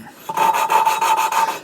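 An engine valve is lapped by hand, without a drill, into a cylinder head during a shed rebuild. Its rasping scrape runs in quick, even back-and-forth strokes, loud and close, with no talk.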